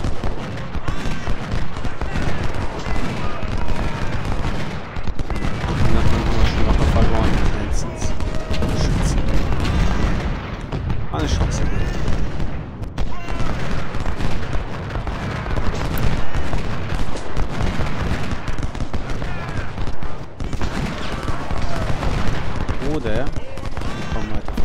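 Cannon blasts and volleys of gunfire from the Civil War strategy game Ultimate General, battle of Chantilly, crackle and boom densely throughout, with a voice talking over the fighting at times.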